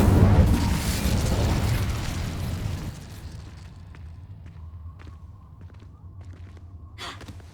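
An Incendio fire spell is cast in Hogwarts Legacy, a roaring fiery burst that opens loud and broad, then subsides into a lower rumble with scattered thuds and a brief flare near the end.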